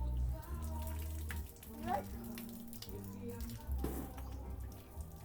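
Water runs steadily indoors as a child washes a bicycle in a bedroom, a continuous splashing wash with a few sharper spurts, while voices talk over it.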